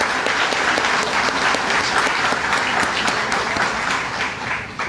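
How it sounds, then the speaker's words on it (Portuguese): Sustained audience applause at a lecture, honoring past and present student council directors, a dense, even roar of many clapping hands that tapers slightly at the end. "uma salva de palmas para todos aí"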